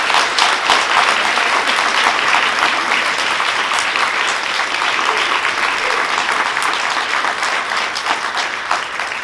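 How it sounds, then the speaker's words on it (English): An audience applauds a panel discussion on cultural appropriation, loud and continuous clapping from the crowd that swells at the start and slowly eases toward the end. "How about a big round of applause for you all?"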